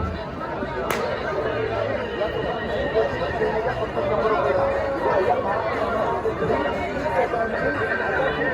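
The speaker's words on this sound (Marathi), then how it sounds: "भरपूर गर्दी झाली" A large crowd mills about at a village temple festival, a dense, continuous babble of many voices close by. A short sharp sound cuts through near the start, and the chatter swells and eases a little throughout.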